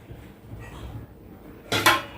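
Dishes clatter briefly near the end as plates are brought and handled in a home kitchen at mealtime, a short sharp ceramic knock and rattle after a quiet stretch of faint room noise.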